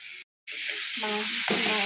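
Vegetables frying in a pan make a loud, dense sizzle, broken by a brief silent gap early on, with a few stirring scrapes against the pan.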